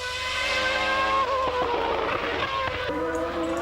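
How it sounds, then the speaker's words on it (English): A 1998 Sauber C17 Formula One car with a 750 hp Petronas engine roars loudly on a test track, its high-pitched engine note rising and falling through gear changes. "the C17, with its 750 horsepower Sauber Petronas engine, roars out onto the 3-kilometre-long track"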